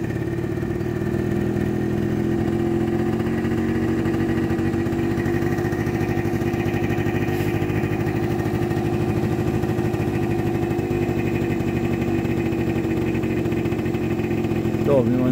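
TGB Bullet scooter engine, a fault-prone unit that stalls under high revs and load, running steadily near the microphone with a loud continuous drone that settles into idle with the e-choke, while someone speaks over it.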